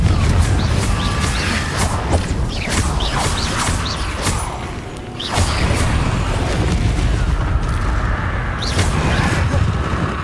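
Confringo fire spell explosions in the Hogwarts Legacy video game, repeated booms and whooshing blasts over dense rumbling combat noise, loud and continuous with no talk.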